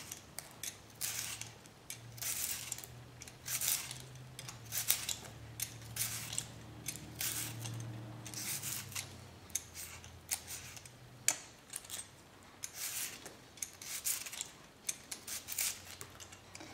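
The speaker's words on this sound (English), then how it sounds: "peel from the root in downward strokes" Onion skin being peeled with a Dinki-di peeler in downward strokes from the root, a close series of quick dry scraping and crackling strokes in an irregular rhythm, fairly quiet.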